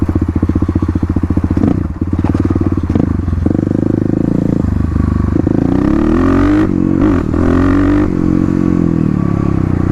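Kawasaki KLX351 dirt bike with a lidless airbox, engine running loud and close, revving up and down with rising and falling pitch and a rough, throaty idle between pulls.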